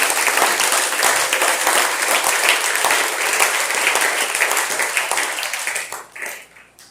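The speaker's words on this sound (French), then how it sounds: "Est-ce qu'on peut acclamer la parole de Dieu?" A church congregation bursts into sustained, loud applause during a worship service, a dense wash of clapping that holds steady for several seconds before thinning out and fading at the end.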